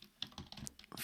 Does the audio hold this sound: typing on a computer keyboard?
yes